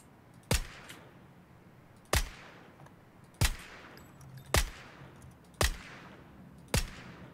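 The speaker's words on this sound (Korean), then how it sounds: "아주 가까운 데서 총소리 나거든요, 지금." Six sharp gunshots from nearby in the battle royale game PUBG, each a loud, abrupt crack with a short decaying tail, spaced about a second apart over a quiet background.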